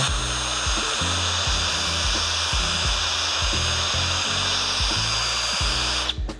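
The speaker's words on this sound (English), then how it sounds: "We took turns with the little pinstripe wheel and got all that glue and rubber and everything off of there." A pinstripe eraser wheel on a power tool strips old glue and rubber off a Tesla Model Y Performance, a steady high whine with a rhythmic low chugging pulse as it bites, close and loud, with no talking.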